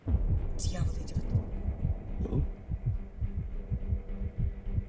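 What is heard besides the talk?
heartbeat sound effect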